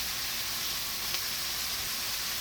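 Taco filling sizzling in hot oil with parsley and seasoning, a steady, dense hiss of frying held close and unbroken, without talk.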